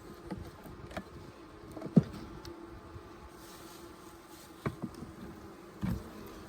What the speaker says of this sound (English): only a small selection of bees here